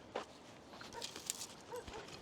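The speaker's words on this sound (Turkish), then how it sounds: "Köpek seslerinden belli zaten." Several short, sharp dog barks at a distance near a creek, scattered irregularly over steady outdoor background noise.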